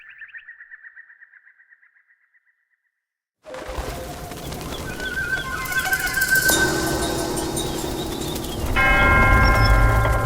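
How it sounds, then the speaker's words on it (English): Bells ringing in the video game Black Myth Wukong as the third bell of awakening sounds: a faint pulsing tone fades to silence, then layered resonant bell tones swell and build loudly to the end. "3 bells sound."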